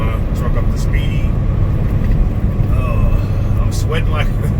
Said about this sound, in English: let me get my truck up to speed